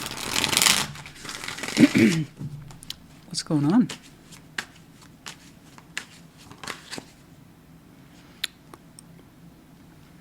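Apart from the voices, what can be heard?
tarot cards being shuffled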